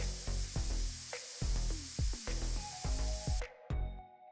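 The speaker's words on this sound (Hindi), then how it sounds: "और हेयर स्प्रे।" Hair spray hisses onto hair from close by as a steady, bright stream that runs almost without a break for several seconds before cutting off, leaving a few faint clicks and knocks.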